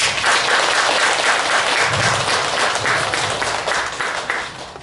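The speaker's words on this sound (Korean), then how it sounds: "힘찬 감사의 박수 부탁드립니다" Sustained, loud applause from the congregation at a Buddhist ceremony for the Buddha's Birthday, dense and even for several seconds before it starts to thin slightly.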